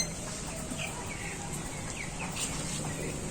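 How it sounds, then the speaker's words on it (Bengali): About ten young chickens, small and large together, on a poultry farm cluck and chirp softly and repeatedly over a steady background hum, close by and at moderate level. "এক জায়গায় দশটি মতন মুরগি আছে ছোট বড় মিলিয়ে"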